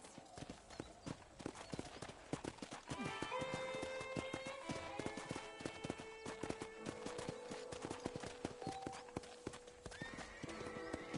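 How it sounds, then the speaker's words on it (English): Horse hooves in the Red Dead video game, a rapid rhythmic clip-clop of galloping with neighs and game music layered over it, continuous throughout. "let's see if you can still ride a horse."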